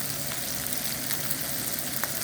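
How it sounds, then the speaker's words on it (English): Steak fries in a hot pan with a loud, steady sizzle and fine crackling spatter, a close, unbroken hiss throughout with no talking. "This is the sound that you would want to hear when you are cooking steak."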